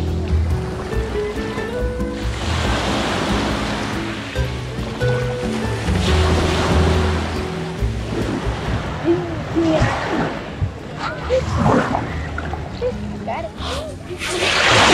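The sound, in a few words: waves washing onto a pebble beach in Positano, Italy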